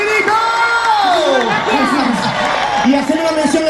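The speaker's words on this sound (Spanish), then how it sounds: "¡Aplauso y grito!" A crowd cheers, whoops and shouts together at an open-air orchestra dance show by Orquestas Marbella y Paris in Rueda del Almirante, with loud, dense voices rising and falling for a few seconds.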